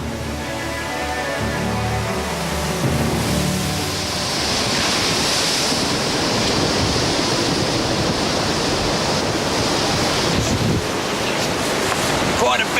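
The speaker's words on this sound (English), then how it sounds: "Quite a big sea we're going down at the moment." Big ocean waves crash and roar under strong wind at sea aboard a racing yacht, making a dense, continuous wash of loud, close noise.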